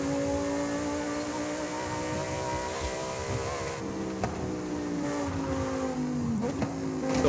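A Lamborghini Huracan STO engine in the racing game Forza Horizon 5 drones loudly and continuously, its revs climbing through a gear change and then rising again, with no talk over it.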